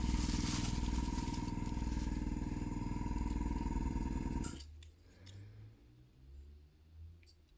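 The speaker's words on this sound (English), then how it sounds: "You can hear my compressor going off in the background." A workshop air compressor runs loud and steady in the background, a dense continuous mechanical drone that cuts off abruptly partway through, leaving a quieter room with faint low sounds.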